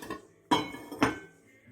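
Puff puff dough ingredients being mixed in a bowl, heard as three sharp clinks of a utensil striking the bowl, spaced about half a second apart, close and alone.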